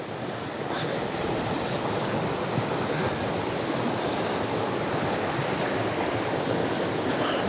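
Water rushing over boulders in a remote canyon trout stream, a steady broadband roar that holds unbroken and fairly close throughout, with no pauses and no voices.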